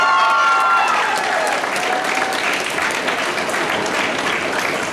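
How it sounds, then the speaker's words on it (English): An audience at a high school marching band event applauds the parents with a dense burst of clapping that starts loud and slowly eases over several seconds, with a murmur of crowd noise underneath. "you owe your parents a little round of applause for all they've done for you"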